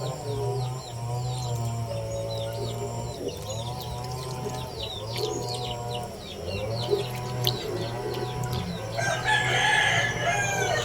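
Chickens cluck and chatter steadily throughout, with a rooster crowing several times among them, close by and fairly loud in a busy farmyard in the Philippines.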